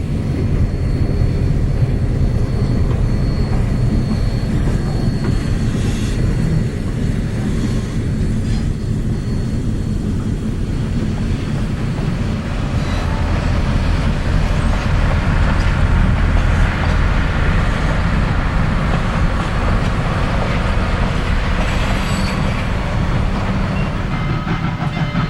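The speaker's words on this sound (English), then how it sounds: "a Richmond, Fredericksburg, and Potomac diesel switcher pulls the special train from the station" A Richmond, Fredericksburg, and Potomac diesel switcher pulls a special steam excursion train out of the station, giving a loud, steady low engine rumble with rolling wheel and car noise throughout, no voices.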